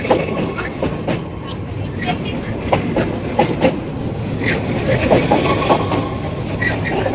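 Trains roll across a railway bridge in Cologne, Germany, loudly and close, a heavy continuous rumble with rhythmic clattering wheels and occasional metallic squeals throughout.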